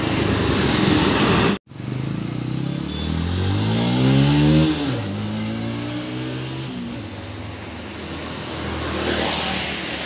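A motorcycle engine runs after repair, revving up and back down in sweeping rises and falls after a sudden start, then settling into a loud, close, steady running note.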